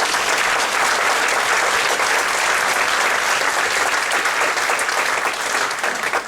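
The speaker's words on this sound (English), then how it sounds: "So do give Gixmo and Cherry a big round of applause" Steady, dense applause from an audience at a dog agility and puppy info session, continuous and loud throughout with no talk over it.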